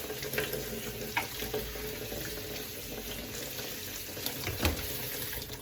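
Tap water runs faintly and continuously over Brussels sprouts being washed in a kitchen sink, with a few soft knocks and splashes from handling along the way.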